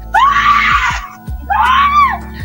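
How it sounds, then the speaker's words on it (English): A woman screams during a violent assault in a parking lot, captured by a doorbell camera: two long, piercing, wavering screams, loud and close, with a short gap between them. "Her screams so chilling, neighbors say they woke up."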